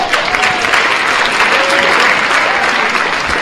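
Sustained, loud applause from a poetry slam audience, steady clapping and cheering throughout after judges' scores are read.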